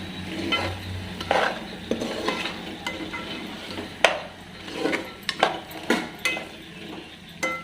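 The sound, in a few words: frying mutton with ginger garlic paste on low flame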